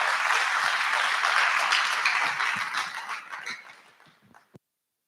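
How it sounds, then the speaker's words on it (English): Audience applause and clapping at a mentorship programme event, a dense steady round from a crowd that gradually thins out and fades, ending with a few last scattered claps. "A round of applause, please."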